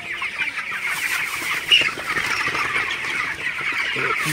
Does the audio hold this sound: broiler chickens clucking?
yes